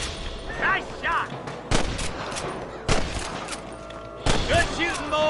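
Gunfire in a Red Dead Redemption shootout: several sharp, loud shots ring out at irregular intervals, with shouted voices and a busy game soundscape between them.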